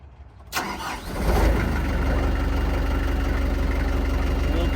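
A construction machine's engine cranks over and fires up, then settles into a steady, loud diesel idle with a low throbbing rumble.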